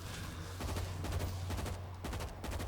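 Rapid gunfire bursts in the World War Z zombie game, with repeated shots rattling in quick clusters over a steady low rumble and no voices.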